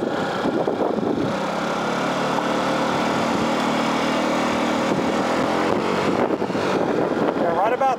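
A Honda Ruckus scooter rides along after its variator rollers were replaced, its engine droning steadily and close by for the whole stretch, with a faint voice beneath the engine noise.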